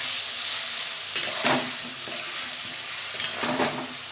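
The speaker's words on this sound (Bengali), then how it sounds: "এবার আমি কষিয়ে নেব।" Turmeric, chilli powder, chopped green chilli and tomato sizzle in hot oil for a rohu fish curry, a steady close fry with a few sharp spoon scrapes and stirs breaking through.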